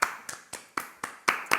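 A steady run of seven sharp hand claps in a quick, even rhythm, close and fairly crisp, offered as a small round of applause during a casual podcast chat, with no talking over it.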